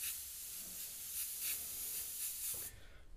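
An airbrush sprays paint in a free-hand custom skull design, a steady close hiss pulsing slightly with short bursts before cutting off near the end into quiet room noise.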